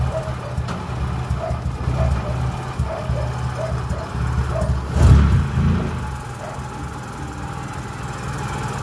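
A car engine idles steadily with a brief louder rise around the middle, as the motor is revved while a voltage regulator and alternator are checked for charging, with a faint repeating tick along the way.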